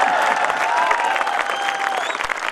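An audience at a poetry recital (kavi sammelan) in Dehradun claps in a dense, steady burst of applause that fills the whole moment, with faint crowd murmur beneath.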